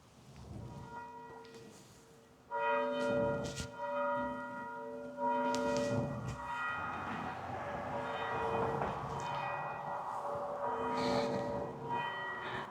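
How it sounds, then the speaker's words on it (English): Peterborough's oldest church bell, in use since 1838, rings out over the city, with sustained ringing tones and strong harmonics that swell and overlap at moderate distance against background city noise. "That bell has been calling people to prayer and also announcing other important events since 1838."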